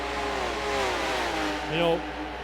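A race car engine at full throttle on the long back section of the Spa circuit, a steady loud drone whose pitch climbs and shifts, with a commentator talking over it.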